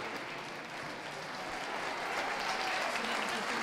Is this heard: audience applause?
yes